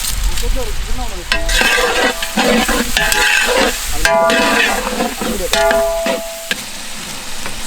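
Onions sauté in a pan for duck biryani, with a continuous crackling sizzle broken by repeated scraping and metallic clinks from a spoon stirring against the vessel.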